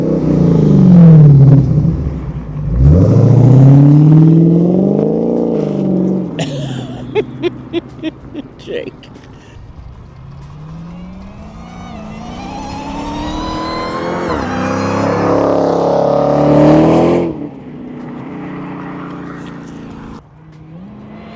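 A 2019 Dodge Challenger Hellcat Redeye roars past loudly with hard revving, rapid staccato bursts between gear changes, then a second long swelling pass that rises to a peak and fades away. A voice speaks briefly.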